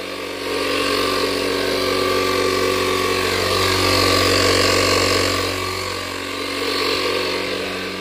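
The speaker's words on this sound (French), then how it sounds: "Bah là, on gonfle le pneu." An air compressor inflates a tyre, a steady mechanical hum and hiss running continuously up close, swelling slightly midway, with no talk.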